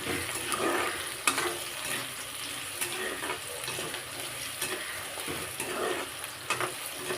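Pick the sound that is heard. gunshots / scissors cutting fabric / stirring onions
stirring onions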